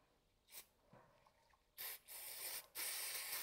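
Three short hissing bursts of electrical contact cleaner spray into a connector on a Mercedes C180, faint and close, the last two longer, after a few quiet clicks and handling noises.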